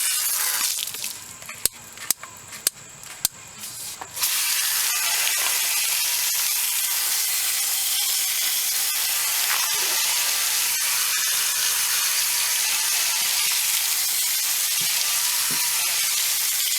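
Steady broadband water spray hisses as rust treatment is rinsed off Ford F350 truck doors, loud and continuous after a few seconds of quieter clicks and rattles at the start.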